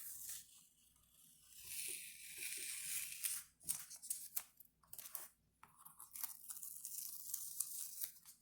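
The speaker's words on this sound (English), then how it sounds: "now remove your tape" Tape being peeled off paper during a kids' crayon scratch art project, with quiet bursts of tearing and crinkling in short uneven pulls, close and soft.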